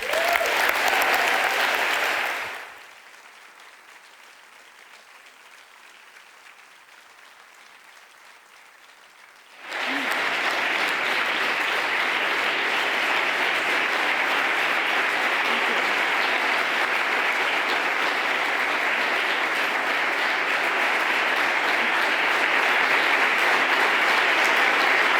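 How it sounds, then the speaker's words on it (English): A conference audience applauds to welcome a keynote speaker, with a loud burst of sustained clapping that drops into near-silence for several seconds, then resumes as long, steady applause filling the hall. "let us, make Ruba feel welcome here and give her a warm applause"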